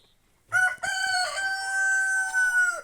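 A rooster lets out one long, loud crow close by on a family farmstead, following a brief cluck, the drawn-out call sustained for over two seconds.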